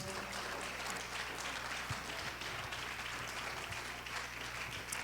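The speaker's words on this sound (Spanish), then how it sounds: "Let's clap our hands to the Lord." Church congregation applauding during a bilingual Spanish-English resurrection service, a steady dense wash of clapping filling the whole stretch at moderate level with no clear pauses.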